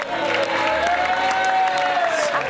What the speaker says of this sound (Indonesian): Boleh kita berikan tepuk tangan untuk Joksi?